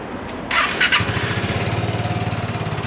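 A Piaggio Liberty scooter with 2870 miles cranks with a whirring starter, then catches and settles into a steady, rhythmic close-up idle putter.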